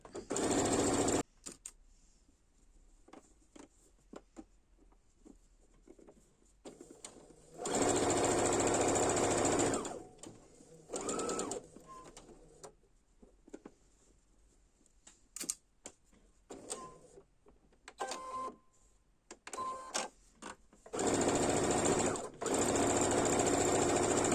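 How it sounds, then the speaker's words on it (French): A sewing machine stitches an extra-large scarf in loud, steady runs of rapid mechanical chatter, with several separate bursts broken by pauses filled with quieter handling noises and small clicks. "Et je démarre la couture."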